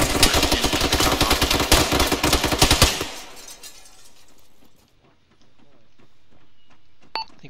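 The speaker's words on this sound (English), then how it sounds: "I think we're taking fire from the next barn." Rapid video game gunfire from a barn, a dense burst of automatic shots for about three seconds, then it fades to quiet ambience with a sharp beep near the end.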